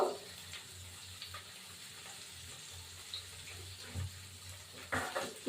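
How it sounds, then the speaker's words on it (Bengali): Water poured into a cooking pot holding tomato, ginger and spices, a faint trickling splash with soft clinks and bumps, fairly quiet, no voices. "জল দেবো"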